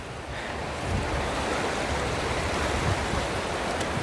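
A strong river current rushes past a forest crossing. A loud, dense and steady wash of flowing water fills the clip close to the microphone, with no voices heard.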